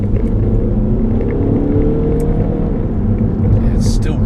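Steady low engine rumble from a 2015 Audi A3 S line TDI accelerating in manual mode, heard from inside the car as a constant drone with faint rising tones and a voice speaking over it.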